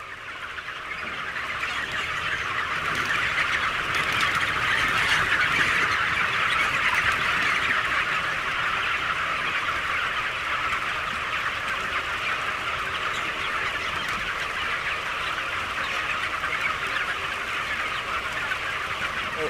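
Four-week-old broiler chickens in a poultry house make a dense, continuous wash of clucking and chatter from many birds, steady and fairly loud throughout, with no voices.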